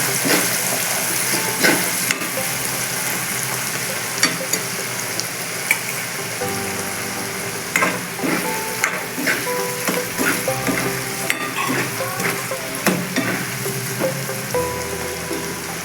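Chopped onions sizzle and fry steadily in a hot pan, a continuous crackling hiss with occasional sharper pops and stirring clicks throughout, no voices.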